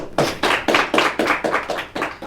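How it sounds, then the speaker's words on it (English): An audience claps to vote for a team in a rhythmic, unison pattern of about nine loud, evenly spaced clap bursts, close and clear. "Now, clap if you think Caden's team will win."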